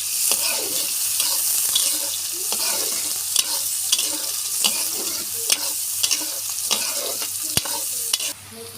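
Potatoes frying in a pan with chopped onion and green chili, a steady bright sizzle with repeated scraping stir strokes roughly every half second, close and fairly loud.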